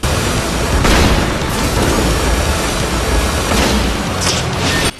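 TNT explosive barrel blowing up in the video game Double Dragon Neon, a loud sustained booming roar filling the whole stretch with dense low rumble and crackling bursts, no talk over it.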